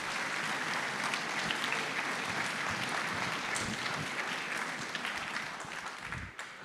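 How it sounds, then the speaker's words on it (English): An audience at a school orchestra concert applauds the middle school orchestras with sustained, dense clapping from a crowd in a hall. The applause stays steady and moderately loud, then begins to thin out near the end. "Another big round of applause, please, for our wonderful middle school orchestras."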